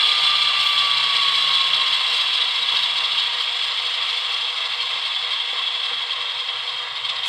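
Bachmann ALCO FA2 model diesel locomotives with TCS WOW sound decoders roar at high RPM, a steady, bright engine drone with a faint rattle that eases slightly toward the end.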